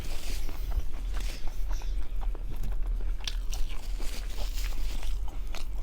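Crunchy bites into a homemade taco shell filled with meat, lettuce, tomato and cheese, recorded close up as repeated crisp crunches and chewing at a steady pace, with no talking.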